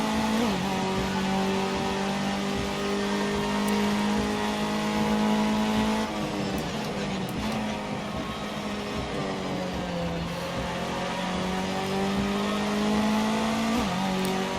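A Ginetta Jr race car engine in Project CARS 2 revs loudly and continuously, its pitch climbing and dropping through gear changes, with faint tire noise underneath and no talk.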